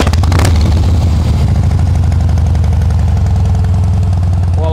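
A used Harley-Davidson Heritage Softail Classic FLSTC with 17,923 miles idles loudly and close by, its engine giving a steady, throbbing rumble throughout.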